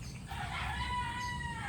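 A rooster crows in one long drawn-out call from a pen shared with a hen, loud and close over a steady bed of farmyard noise, with no voices.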